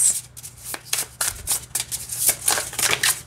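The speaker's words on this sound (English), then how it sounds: "This is a really comfortable shuffle. None of them are sticking. They're all gliding really nice." A Superlunaris tarot deck being shuffled up close, its smooth cards gliding without sticking, giving quick repeated papery swishes and riffles in a steady run with no voices.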